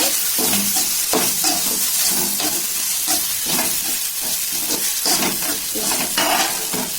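Goat intestine sautéing in a pan with tomato, ginger and garlic, a steady close sizzle broken by repeated scraping stirs throughout.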